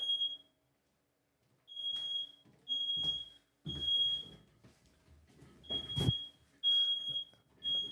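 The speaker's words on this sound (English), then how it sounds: "Can we just talk about smoke detectors?" A smoke detector alarm sounds a series of long, loud, high-pitched beeps in a repeating pattern, with a few short thumps and rustles in the room between the tones.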